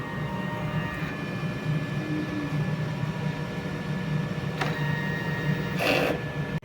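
DTF printer running a head clean cycle gives a quiet, steady mechanical whir, broken by a brief click and a short sweeping burst near the end.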